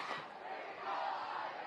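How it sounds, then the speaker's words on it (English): Football crowd at a high school game chanting together in a steady, loud mass of voices that fills the stands, distant and reverberant with no single voice standing out. "You hear the crowd chanting"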